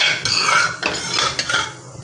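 A spoon scrapes around a kadhai of milk while basundi is being made, giving several loud, close metallic scrapes and clinks in quick succession with no talk.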